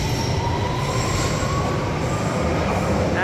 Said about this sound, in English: And there goes this tube.